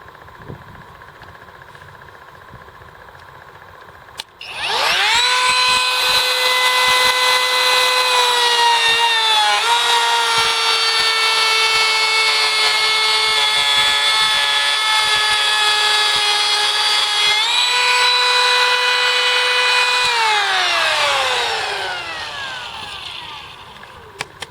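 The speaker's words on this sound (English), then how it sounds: "That router's working really nice." A Kobalt 24V MAX brushless cordless router, model KR 124B-03, with carbide tooling cutting wood: a loud, steady high-pitched whine runs for about sixteen seconds with a slight pitch dip partway, then winds down.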